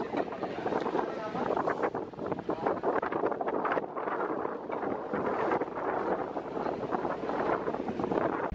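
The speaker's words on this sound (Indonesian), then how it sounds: "dengan angin yang semilir-semilir sejuk" Wind sweeps across the deck of a ferry bound for Bali, making a constant loud buffeting roar against the microphone, with a low rumble underneath throughout.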